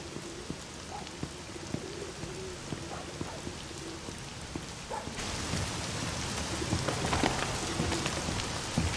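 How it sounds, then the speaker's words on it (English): Rain in the video game The Medium, a steady dense patter of drops on surfaces that swells heavier partway through, with scattered sharper drips and no voices. "Gotta say, that's some good sounding rain."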